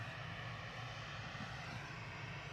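Ryanair jet in Malta Air branding taxiing out at Manchester Airport on a chilly morning, a steady, fairly faint engine drone with a low hum holding evenly throughout, no voices over it.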